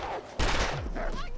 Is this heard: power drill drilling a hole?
no